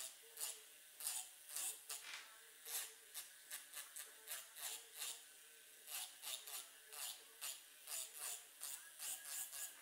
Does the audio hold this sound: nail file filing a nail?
yes